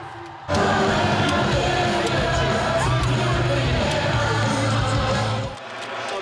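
A street crowd erupts into loud, sustained cheering and yelling after Son Heung-min's goal during a World Cup match, a dense roar that starts abruptly and holds for several seconds before cutting off.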